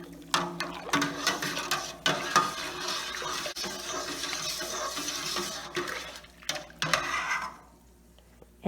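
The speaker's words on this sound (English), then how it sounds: "stir this up really well." A big spoon stirs tea dye in a pot of liquid, giving intermittent sloshing, swirling water and scraping against the pot that pause briefly and then trail off into quiet.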